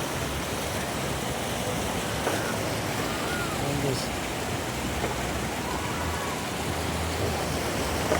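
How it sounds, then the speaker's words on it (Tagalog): A strong current of the Palakol River rushes over large rocks in a constant, loud, broad roar of water, while someone briefly speaks over it. "Malakas yung agos ng tubig dito guys."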